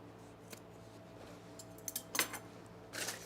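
Sewing scissors snipping overall fabric near at hand, a few quiet cuts scattered and then a short cluster, with no one talking.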